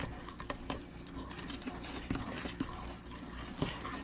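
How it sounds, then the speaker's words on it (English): Four eggs and pineapple juice being stirred together for cake batter, soft swishing with irregular light clicks of a utensil against the bowl, close and fairly quiet. "Let me get this stirred up."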